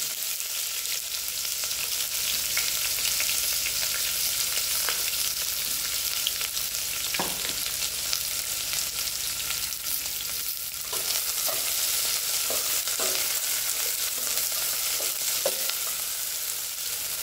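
Sliced onions sizzle steadily in a pan for a Mughlai mutton curry, a constant close hiss with occasional stirring scrapes, no one speaking.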